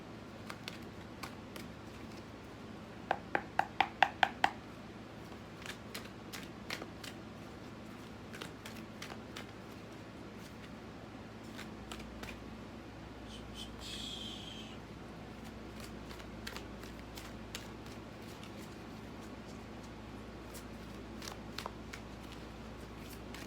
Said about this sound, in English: Let me pull one more card.